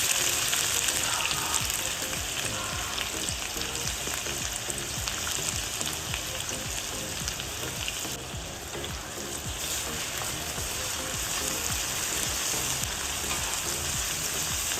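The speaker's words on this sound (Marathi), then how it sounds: "त्यामध्ये आपण उभा चिरलेला कांदा टाकणार आहोत. तो चांगला फ्राय करून घ्यायचा आहे आपल्याला." Sliced onions fry steadily in hot oil in a pan for a dish of chatpata soya masala, giving a loud, continuous crackling sizzle with no talking.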